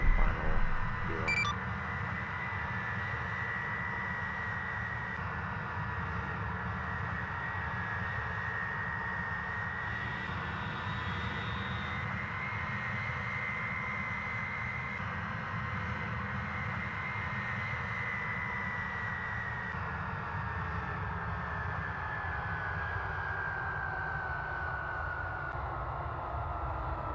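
Steady aircraft engine drone on landing approach in ARMA 3, a continuous loud hum holding level throughout with a brief faint beep near the start.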